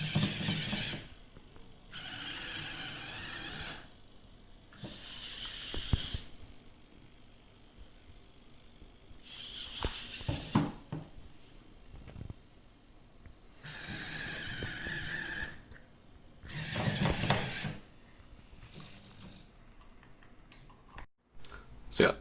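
A self-transforming G1 Bumblebee robot driven by servos whirs through its transformation in repeated bursts of motor buzzing and mechanical clicking, separated by quieter pauses, with some talk in between.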